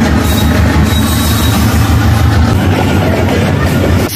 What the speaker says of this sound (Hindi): ये मालगाड़ी है।